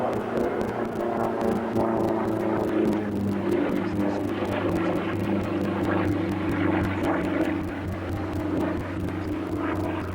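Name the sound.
propeller aerobatic aircraft flying at an airshow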